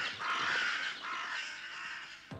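Cartoon crows caw harshly in a dense, loud, continuous chorus, ending with a short low thump.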